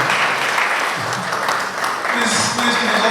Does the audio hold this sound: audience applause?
yes